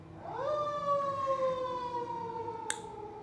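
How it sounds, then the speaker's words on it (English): An emergency vehicle siren sounds nearby as a sustained, slightly falling wail that rises in quickly and holds, moderately loud over faint background noise, with a brief sharp click near the end. "They're so loud, sirens."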